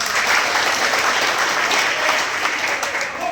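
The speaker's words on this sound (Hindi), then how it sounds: "एक जोरदार तालियों के साथ हार्दिक स्वागत करता हूं" Loud, dense applause from a large crowd welcoming speakers at a Kurmi community Mahakumbh gathering, a steady unbroken roar of clapping filling the whole moment.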